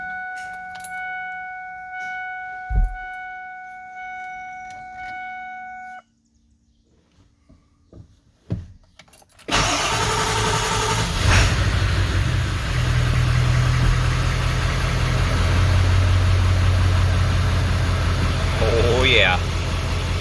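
A car engine fitted with a ZF6 manual transmission conversion is cranked after a quiet pause, catches and settles into a loud, steady idle. Keys jangle and faint clicks come before it, and there is no talk over the engine.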